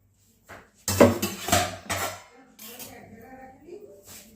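A metal lid lifted off a cooking pot holding an eggless mawa cake steamed without an oven, giving a few close clanks and scrapes of metal on metal, then quieter handling noises.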